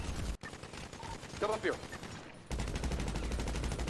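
Gunfire in a GTA roleplay session during a casino vault standoff, a rapid burst of shots followed by sustained automatic fire, with a short spoken call and other voices mixed in.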